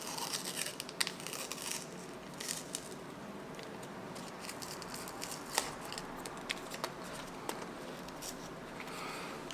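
A roll of 120 film being unsealed by hand, soft paper tearing and crinkling with small irregular crackles, close and fairly quiet throughout.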